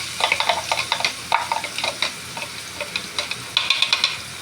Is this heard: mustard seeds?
yes